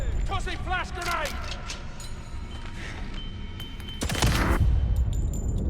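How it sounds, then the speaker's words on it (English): A sharp burst near the end as a flash grenade detonates in the video game 007 First Light, set among scattered in-game gunfire and mechanical clatter while a person talks over the action. "Tossing flash grenade!"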